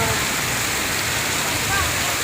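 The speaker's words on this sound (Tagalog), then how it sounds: "Malakas ang ulan." Heavy rain falls at dusk around a lone rider, a dense, even hiss that fills the scene without pause.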